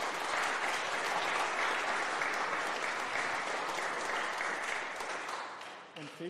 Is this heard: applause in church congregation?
yes